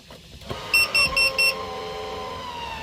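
Carbon monoxide alarm sounding inside a van, four sharp high-pitched beeps in quick succession after a soft knock, followed by a low hum.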